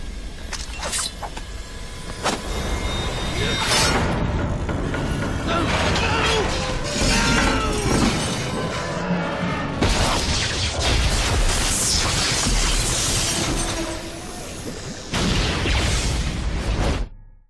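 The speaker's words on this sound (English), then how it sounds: "Batman destroys the pit to stop the Joker from using it" The Lazarus pit is destroyed in an Arkham video game scene, a loud, chaotic stretch of crashing, shattering debris and heavy impacts with brief pauses, under faint voices.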